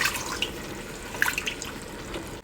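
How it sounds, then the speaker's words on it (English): A little water is poured into a pot of slow-cooking pork roast, a soft, steady splashing pour with a few bright drips, close and fairly quiet. "Gonna add a little bit of water to it"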